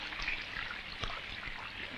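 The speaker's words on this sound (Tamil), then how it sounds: "வீடு ஒழுகுது" Rainwater leaks through a house roof during a downpour in a film scene, trickling and dripping steadily with small splashes, moderately close.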